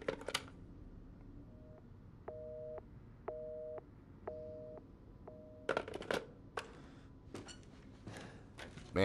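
Telephone busy or ringback tone in the Resident Evil 7 horror game's old house, four evenly spaced electronic beeps in a steady pulse, followed by scattered clicks and handling noises.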